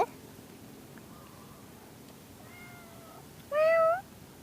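A small cat gives a single clear, fairly loud meow near the end, preceded by fainter, softer mewing calls, in a quiet indoor setting.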